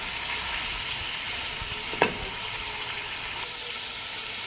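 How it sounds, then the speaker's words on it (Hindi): Chicken frying in a kadai for chicken karahi, a dense, steady sizzle close up with a single brief clink of a utensil midway. "तो ये देखें कितना अच्छे तरीके से हमारा चिकन फ्राई हो रहा है।"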